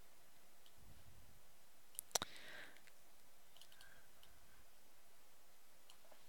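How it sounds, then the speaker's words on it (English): A computer mouse clicks a few times in quick succession, sharp and close, against a faint steady room hiss and otherwise quiet surroundings. "I'm going to save by clicking on the little save icon."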